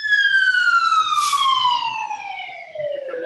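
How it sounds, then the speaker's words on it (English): A local ambulance siren passes outside, loud and steady, its wailing tone sliding gradually lower as it moves by, with faint background sounds beneath. "From the local ambulances."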